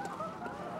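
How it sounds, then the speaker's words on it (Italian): Wingless crow-chicken enemies in the Bloodborne video game give a short nasal, honking squawk, brief and fairly loud in the game mix. "Corvi senza ali che ti corrono in faccia così, in allegria."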